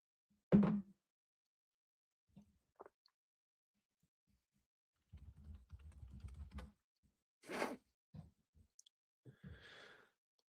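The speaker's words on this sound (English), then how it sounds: "I was typing down a note." Keyboard typing in short scattered bursts, quiet and close, with a few louder knocks and a sigh-like breath between the clusters of keystrokes.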